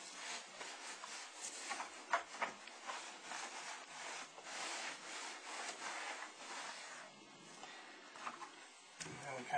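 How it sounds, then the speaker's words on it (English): A cloth wipes along a window frame during window cleaning, making continuous close rubbing and squeaking strokes in an uneven rhythm, soft but steady throughout, with no talk over it. "And wiping the window frame,"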